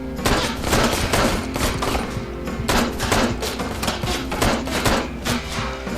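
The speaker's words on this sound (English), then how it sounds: "I hear gunfire" Steady bursts of gunfire in the Ride to Hell video game hammer away loudly and continuously, with repeated sharp shots packed close together and no talk over them.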